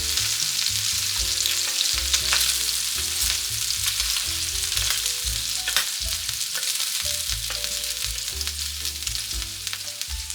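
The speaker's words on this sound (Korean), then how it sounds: "고기 기름에 대파, 참마늘, 청양고추를 넣고 김치도 넣어서 볶아줍니다." Green onion, garlic, chili peppers and kimchi stir-frying in pork fat for fried rice make a steady close sizzle, with scraping and clattering of a spatula stirring throughout.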